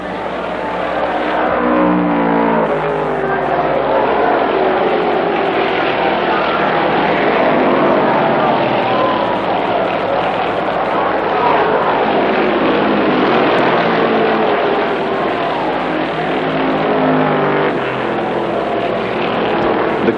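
Stock cars roar around a racetrack as Junior Johnson duels Dick Hutcherson's number 29 for the lead, a dense sustained engine din that stays loud and steady throughout, with a faint voice underneath.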